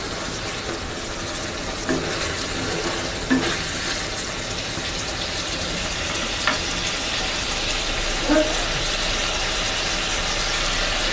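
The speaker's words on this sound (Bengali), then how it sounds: "একটু ঢেকে একটু সিদ্ধ করে নেব।" Aloo paneer curry of potatoes and paneer simmering in a covered pan, a steady soft bubbling sizzle running throughout with a few faint clinks and pops.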